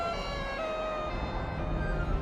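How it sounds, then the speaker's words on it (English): An ambulance siren from the city-building game Cities Skylines, a steady electronic wail with sustained tonal lines running continuously over a dense background of traffic and city ambience, fairly even in loudness throughout. "Look at that ambulance as it weaved in and out there."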